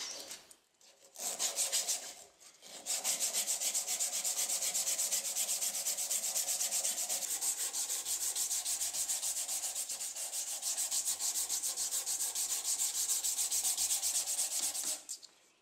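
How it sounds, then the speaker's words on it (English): Sanding of wood with 120 grit sandpaper on a seax handle, a steady raspy rubbing that runs almost continuously for about twelve seconds after a couple of brief starts, close and fairly loud. "Using 120 grit sandpaper, the marks left on the wood by the grinder are removed."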